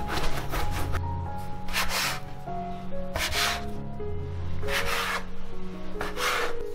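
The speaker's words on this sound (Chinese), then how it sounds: "把它移到案板上来揉，最少要揉8分钟" Dough is kneaded by hand on a wooden board in repeated rubbing, pressing strokes, a rhythmic close-up scraping swish about every second with no talk.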